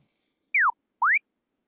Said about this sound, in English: So that's two little quick whistle sounds.